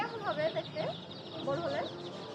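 Several chicks cluck in short, repeated bursts close by, with faint background voices mixed in at a market-like bustle, at a pet market.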